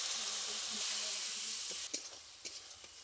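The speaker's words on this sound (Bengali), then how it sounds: "লঙ্কার গুঁড়ো হলুদ গুঁড়ো খুব ভালো করে কষিয়ে নিয়েছি" Chili powder and turmeric sizzle in a pan with a little water, a steady close hiss that fades toward the end, followed by several short scraping stirs.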